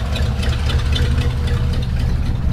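A 1960 Chevrolet Impala with a 283 two-barrel V8 and dual exhaust runs at idle, giving a steady, close, low rumble that holds an even level throughout, with no talk.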